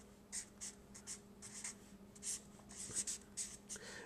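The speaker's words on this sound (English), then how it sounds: "so I write down Faraday's law" Equations are written on a board, producing faint, close, irregular scratching strokes in short bursts with brief pauses between them, heard alone over a low background hum.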